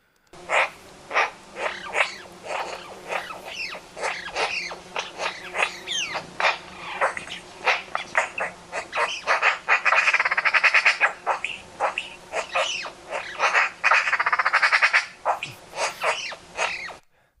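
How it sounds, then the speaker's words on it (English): Magpie whisper song captured by a hidden microphone: a long, busy run of soft chattering, squawky notes and rasping trills, dense and continuous, with fuller bursts midway, close and alone with no voices. "this particular type of song by magpie is called whisper song"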